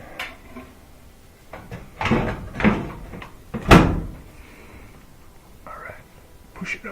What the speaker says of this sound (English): I'll put the bottom panel back on